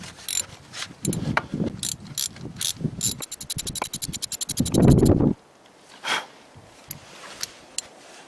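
A ratchet clicks loudly and rapidly, close up, as a spark plug is threaded back into a Chevy TrailBlazer engine, with bursts of fast clicking, then scraping handling noises and a few quieter knocks.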